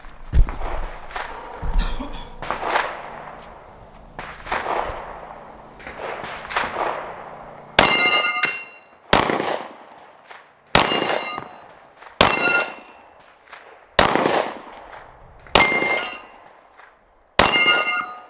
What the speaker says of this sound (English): This is first time shooting a micro CANIK, by the way, guys.